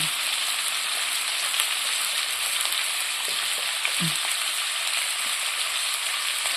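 Onion and garlic sautéing in a hot pan give off a loud, steady, close-up sizzle and crackle that runs without a break, with no talking.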